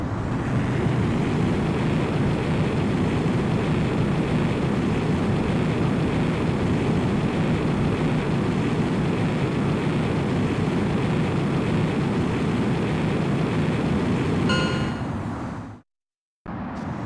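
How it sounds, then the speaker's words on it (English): A fighter jet in Ace Combat X roars steadily at full thrust for takeoff, a loud broadband engine blast that holds constant before cutting abruptly to silence and then resuming. "Gryphus One, you are cleared for takeoff."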